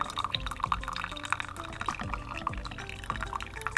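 Water drips steadily through a coffee filter at an ice fishing camp, a quick, irregular patter of small drops falling close by, with no voices.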